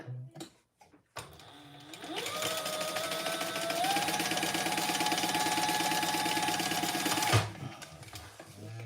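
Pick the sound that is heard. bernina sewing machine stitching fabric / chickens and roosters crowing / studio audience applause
bernina sewing machine stitching fabric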